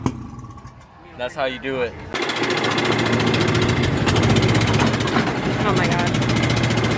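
A Mazda RX7 drag car's engine cranks and catches with a sudden loud roar, then holds a harsh, rapid idle and revs steadily; people talk briefly and excitedly just before and during the start.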